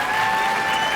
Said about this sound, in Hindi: तो आइए इन दोनों के लिए जोरदार तालियां बजाते हैं, ज़ैनब और उमर।